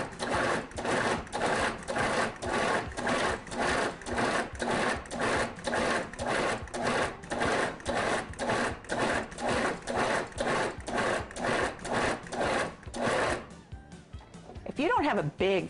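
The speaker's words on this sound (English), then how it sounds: "I've cubed 3 pounds of London broil and put it in my food processor." A large food processor pulses to grind three pounds of cubed London broil, with about twenty quick even whirring bursts in a steady rhythm, loud and close, then stopping near the end.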